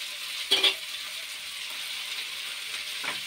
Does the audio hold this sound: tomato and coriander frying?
yes